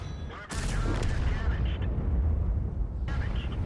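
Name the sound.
tank gunfire in video game World of Tanks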